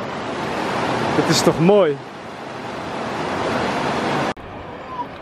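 A mountain stream flows in Fulufjället National Park in Sweden, a continuous broadband rush of water heard up close. A person speaks briefly near the start.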